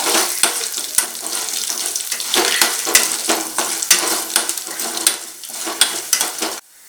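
Peanuts fry in a pan for gongura chutney while being stirred, a continuous crackling sizzle broken by repeated scraping strokes and light clinks of the spoon against the pan.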